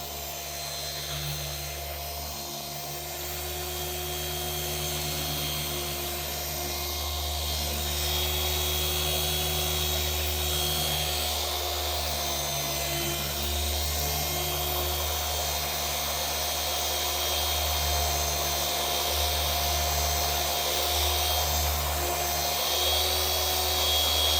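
A machine polisher buffs car paint with Final Cut compound, a steady high-pitched whirring hum that holds level and grows slightly louder, close and uninterrupted, with no talk.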